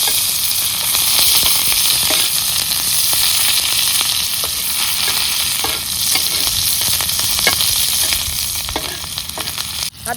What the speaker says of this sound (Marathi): आता कांदा तळायला तेल टाकून घ्यायचंय